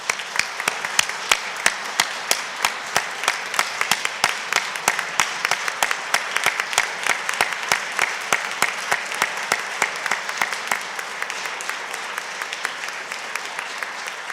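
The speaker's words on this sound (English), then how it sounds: "deserves a round of applause" Audience at a Cleveland City Council meeting applauds steadily for about fourteen seconds, a dense, even patter of many hands with sharp individual claps standing out, holding strong before easing slightly toward the end.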